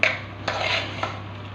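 Sella rice and masala for chicken mandi are mixed in a metal pot, with three soft scraping knocks of a spoon against the pot over a low hum.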